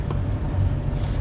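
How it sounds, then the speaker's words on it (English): A sailboat motoring under its engine in light wind near an industrial coastline, giving a steady low drone with wind noise across the microphone throughout. "engine's back on, wind dropped down to about 6 knots"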